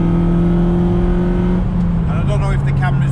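A Honda FD2 Civic fitted with a GruppeM induction kit holds a steady, loud engine drone up close, the pitch shifting slightly as it revs, heard outdoors at night.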